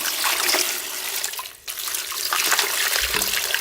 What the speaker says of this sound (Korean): 물을 부어요.